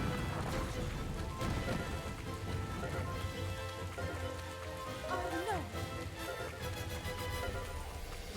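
Steady rain falls in Hyrule Warriors: Age of Calamity, a dense even hiss of drops with scattered faint thuds underneath, continuous and without talk.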